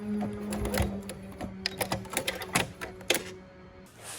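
A sewing machine stitches around a zipper on a garment bag, mechanical clicking and rapid tapping bursts in uneven runs over a low motor hum, close and fairly quiet, fading toward the end.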